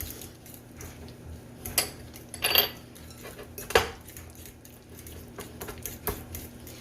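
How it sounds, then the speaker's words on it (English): Hot crab dip with Old Bay and ground mustard is stirred in a bowl, with scattered utensil clinks and scrapes against the dish, a few louder knocks, and quiet kitchen background without talk. "Just mix that up real good"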